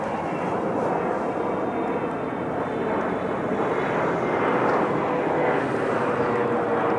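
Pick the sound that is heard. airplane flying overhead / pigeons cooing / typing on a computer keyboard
airplane flying overhead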